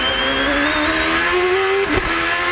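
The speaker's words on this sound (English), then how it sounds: "By listening to the engine, you can tell how his power down is." Race car engine at full power on a track during a 2007 CCWS Houston round, heard on board: a loud, steady high-pitched drone that climbs slightly in pitch, with a brief dip and blip near the end.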